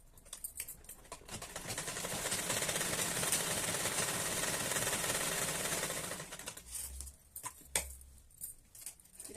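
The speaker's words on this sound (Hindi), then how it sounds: "आगे के गले की सिलाई सेंटर से सीधी सिलाई ले आते हैं" A sewing machine stitches the round front neckline of a kurti, running in a long continuous mechanical rattle for several seconds before stopping, followed by a few scattered clicks and handling taps.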